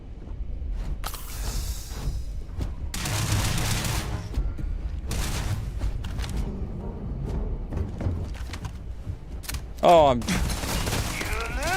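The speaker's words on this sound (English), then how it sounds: "Bursts of controlled fire." Bursts of gunfire in the video game Starfield, several short loud volleys separated by brief gaps, with mechanical clicks and a brief exclamation from a man.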